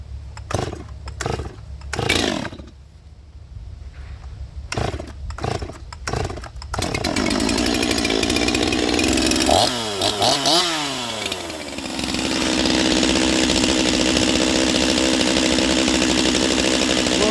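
Chainsaw fitted with a freshly sharpened Stihl MS250 chain: several sharp pull-start bursts, then the engine catches and roars steadily while trimming, loud and close, with the revs wavering under load.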